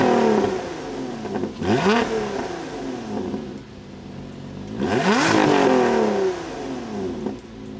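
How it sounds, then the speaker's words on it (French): A 2024 Lotus Emira sports car engine revs up twice from idle, each blip rising sharply and falling back, loud and close with no talking. "Je vous fais entendre le son de la sonorité du véhicule"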